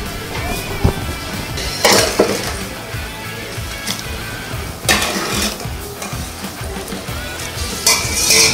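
Minced meat frying in a pan for spaghetti, with a soft sizzle under clattering utensil scrapes and stirring knocks against the pan that recur every few seconds.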